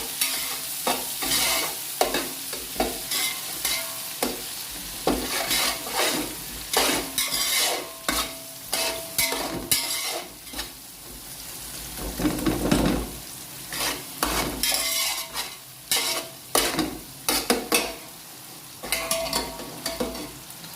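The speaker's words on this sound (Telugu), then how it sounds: "మసాలా ఎప్పుడు మాడకూడదు, వెంటనే ఉల్లిపాయ ముక్కలు వేసేయాలి." Onion pieces frying and being stirred in hot masala for a country-chicken dum biryani: steady sizzle broken by repeated close scraping and clattering strokes of the stirring spoon, no talking.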